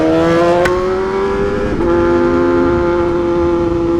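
A BMW HP4 Race motorcycle with a straight pipe exhaust drones loudly and steadily from close by, holding a sustained engine tone with a brief pitch shift partway through.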